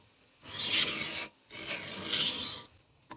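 A knife blade rubbed in circles across a whetstone makes two long gritty rasping strokes, close and steady, separated by a short pause, with no talking.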